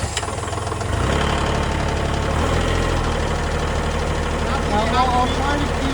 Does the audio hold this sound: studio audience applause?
no